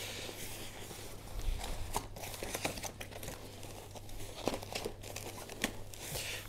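An Elodie Mondo stroller folds itself up after a handle button is released, giving a steady run of soft rustling, crinkling and light mechanical clicks with no talking.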